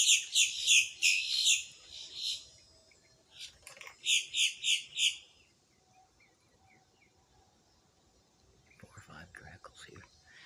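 Large black birds with chicks calling in a short burst of repeated high, harsh notes, a second volley a few seconds later, then near-quiet outdoor air with faint rustling and soft speech-like sounds toward the end.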